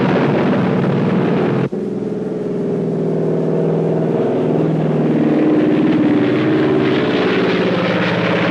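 A propeller airplane flies low over a guerrilla outpost in Laos during a supply drop, its engines droning loud and steady throughout with a brief sharp click early on, no talk.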